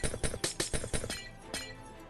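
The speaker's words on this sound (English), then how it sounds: "Oh, the wonderful sound of breaking glass." Glass blocks shattering in the Minecraft video game, a rapid run of sharp, crisp breaking crunches in quick succession, then a lone later shatter with a lingering ring, close and fairly loud.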